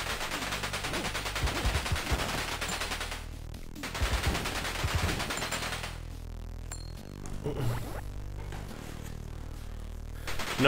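Rapid, sustained gunfire in the Nintendo Switch game Ammo Pigs rattles almost continuously, with brief pauses between bursts of shots.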